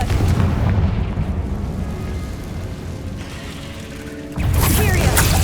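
The Confringo blasting spell goes off in Hogwarts Legacy, a loud booming, rumbling burst with mechanical rattling that fades, then a fresh heavy blast near the end.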